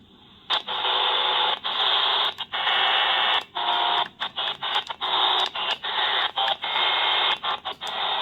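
Dense hissing shortwave radio static in steady bursts, broken by frequent short gaps as the dial is tuned with single sideband on, loud and close with no clear voice.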